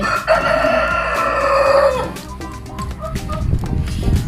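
A rooster crows loudly nearby in one long call, followed by scattered clucking and other farmyard noises from backyard chickens in Germany.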